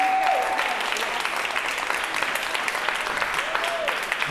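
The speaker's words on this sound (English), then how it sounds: "All right, big round of applause." Audience applause after a parent's talk about Zaria's Song, a steady wash of clapping throughout, fairly close and even, with a faint voice and a brief tone near the start.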